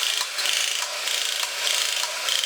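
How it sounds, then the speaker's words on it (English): A vintage battery-powered TV robot toy, running on two C-cell batteries, walks with a steady whirring, grinding mechanical rasp, gears and ratcheting parts repeating in a regular rhythm, close and moderately loud with no talking. "I like that it continues to walk and has machine sounds and shows pictures."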